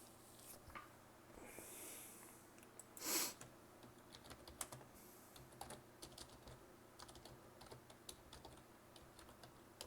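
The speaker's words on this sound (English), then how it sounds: "I'm just typing in the next episode." Quiet computer keyboard typing: scattered light key taps at a low level, with one louder brief rustle or thump early on, in an otherwise hushed room with faint background hum and no talking.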